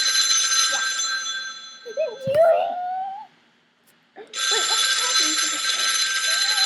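A telephone rings in two long electronic bursts separated by a short silence, fairly loud and close, with a brief vocal sound between the rings.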